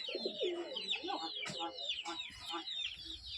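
Pigeons coo in soft, throaty, repeated calls close by, overlapping with other bird chirps and rustling, with no talk.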